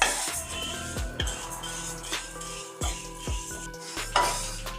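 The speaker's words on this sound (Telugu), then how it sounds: "2 కప్స్ పెసరపప్పు వేసుకొని డ్రై రోస్ట్ చేయాలి." Moong dal dry roasting in a pan on a low flame, with repeated scraping and stirring clinks of a utensil against the pan in an uneven rhythm, close and moderately loud, no talking.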